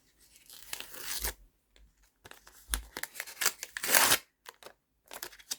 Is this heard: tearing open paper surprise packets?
yes